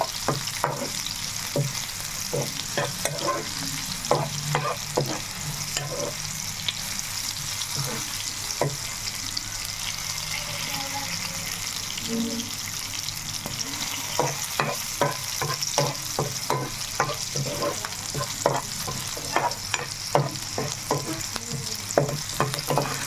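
Ingredients for a Telugu-style tomato chutney fry in a pan with a steady, close sizzle, broken by frequent scraping and stirring clicks from a spoon against the pan throughout, with no talking.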